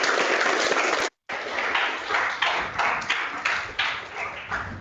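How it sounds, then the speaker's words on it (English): An audience at a scientific talk on black holes and gravity claps for a speaker, a continuous band-limited patter of hands with a brief dropout near the start. "So let's go ahead and give a round of applause."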